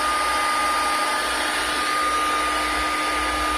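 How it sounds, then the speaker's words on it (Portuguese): A 970-watt hair dryer runs off a Belevschi 5000 W power inverter, giving a steady, loud, close-up rushing whir that holds evenly throughout with no talking. "Secador com 970 watts."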